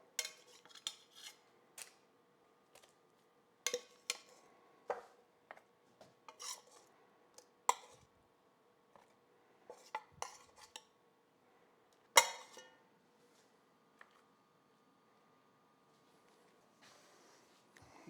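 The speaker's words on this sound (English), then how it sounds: "I'm going to place the plum halves on the bottom of the pan" Plum halves are placed cut side down into a buttered springform pan, giving sparse soft taps, clicks and light scrapes, close and quiet with gaps of near silence between them.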